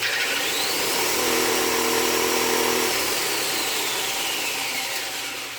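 A belt sander fitted with a link belt runs steadily, its loud whirring grind holding level for several seconds before easing slightly toward the end, with no voices over it.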